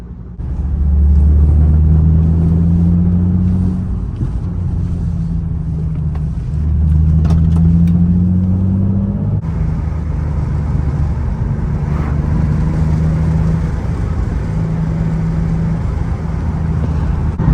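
A Nissan 350Z driving along, its engine droning steadily with a low rumble and shifting tones as revs rise and settle, loud and close from inside the car, with road noise underneath and no talking.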